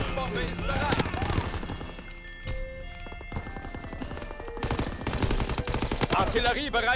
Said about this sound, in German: Was ist das für eine Scheißwaffe?